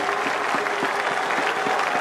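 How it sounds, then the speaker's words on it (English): Dense, steady crowd applause filling a cricket stadium as a batsman reaches his century in a Bangladesh versus Australia match, loud and continuous throughout. "Great applause."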